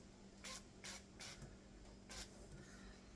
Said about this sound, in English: So I'm just going to kind of spray each side.